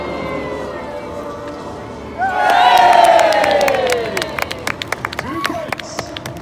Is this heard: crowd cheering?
yes